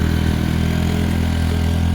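A motorcycle labouring up a steep uphill road in first gear, a loud, steady, close engine drone with a low throbbing pulse and no change in pitch.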